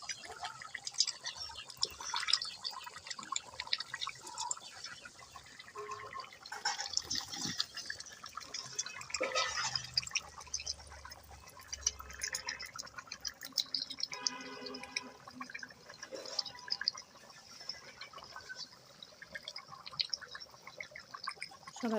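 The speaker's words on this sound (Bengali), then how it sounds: "শব্দটা শুনতে পাচ্ছেন কেমন করে টকবক টকবক শব্দ হচ্ছে পানি।" Curry bubbles and simmers in a cooking pot with soft, irregular popping and gurgling, faint and steady, with no talk over it.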